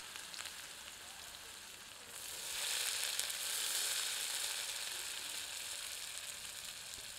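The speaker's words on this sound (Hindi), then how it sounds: "इसे मध्यम आंच पर भूनते हैं जब तक कि यह सुनहरे रंग की ना दिखने लगे।" Chopped onions sizzle in hot oil with cumin seeds for matar paneer, a steady close frying hiss that swells louder partway through as they are stirred.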